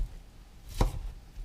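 A single crisp knife chop through an onion on a cutting board, cutting 1/8 inch slices, quiet and close, with nothing else around it.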